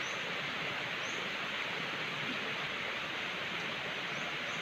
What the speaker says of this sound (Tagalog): Umuwi na tayo, ma, dahil umuulan na.